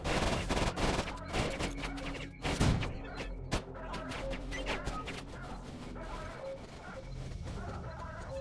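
Rapid Kalashnikov rifle bursts fire in a S.T.A.L.K.E.R. Shadow of Chornobyl shootout at a bandit-held dump, loud repeated volleys with scattered shots and game ambience, a voice talking briefly between bursts.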